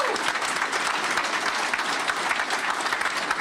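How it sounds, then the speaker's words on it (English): An audience claps at an announcement of two new Google data centers in central Ohio, giving a thick, even wash of applause heard close and fairly loud for the whole stretch. "go ahead, give us an applause"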